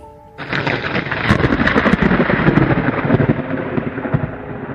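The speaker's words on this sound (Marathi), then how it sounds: "पाऊस सुरू झाला।" Loud, deep thunder rolls in after a brief quiet start and keeps rumbling over a dense, steady hiss of heavy rain.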